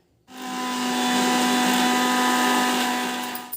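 An electric mixer grinder starts up and runs blending a paste with a little water, a loud steady high-pitched whine and whir that holds for a few seconds, alone without talk.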